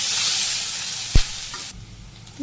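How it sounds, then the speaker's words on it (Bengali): Onions and green chillies frying in a pan in a Bangladeshi village kitchen, a steady bright sizzle that eases off after a couple of seconds, with one soft knock partway through. "পেঁয়াজ আর কাঁচামরিচ দিয়ে দিই ভাজি করে দিই"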